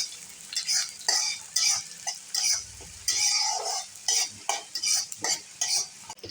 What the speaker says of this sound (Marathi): तेलामध्ये बारीक चिरलेला कांदा टाकायचे आणि 2 तमालपत्र आणि कांदा खरपूस असा भाजून घ्यायचे